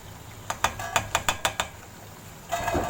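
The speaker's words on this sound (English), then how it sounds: "They are so crispy when I am taking them out on the plate." Crispy fried wheat flour bhajiyas clatter onto a plate in about seven quick, sharp clicks close by, followed by a brief rustle.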